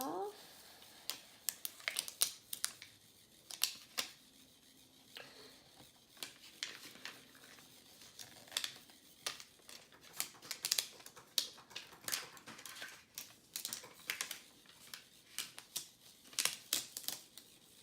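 A 3D printed part is peeled off a print bed in a string of sharp, irregular crackling snaps and clicks, close and fairly quiet, with speech over part of it.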